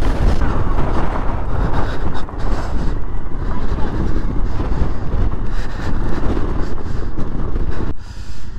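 Strong Patagonian wind buffets the microphone in a loud, continuous roar with gusty swells, briefly easing near the end.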